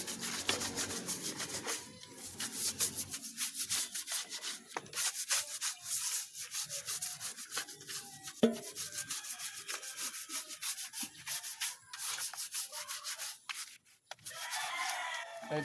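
A dirty chicken perch caked with droppings is scrubbed clean with steady, rasping back-and-forth strokes that run nearly without pause, with faint poultry sounds in the background.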